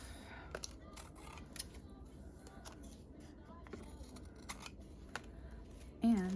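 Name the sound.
cutting excess off an ephemera paper piece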